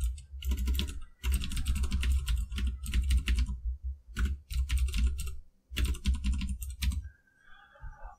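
Rapid clattering keystrokes on a computer keyboard come in several dense bursts separated by short pauses, close and fairly loud with no voice over them.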